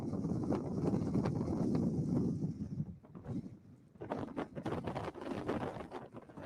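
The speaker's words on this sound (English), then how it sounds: "Well, it's windy and it's dry." Wind blows across a dry, empty gypsum lake bed on an old Ice Age shoreline, roaring and buffeting against the microphone in strong gusts that drop briefly, then return in choppier bursts.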